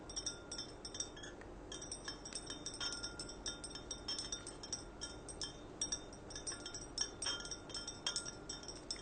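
A glass stirring rod clinks rapidly and steadily against a glass beaker while a starch solution is stirred during heating, bright close taps repeating continuously over a faint background hiss.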